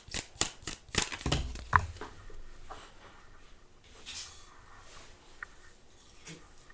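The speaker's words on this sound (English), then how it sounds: "I should just shuffle, like, over my lap, because even when I shuffle over the table, they just fly out the other direction onto the floor" Tarot cards being shuffled by hand: a quick burst of crisp riffling flicks and taps up close, then softer scattered card rustles and light handling sounds, quiet, with no talk.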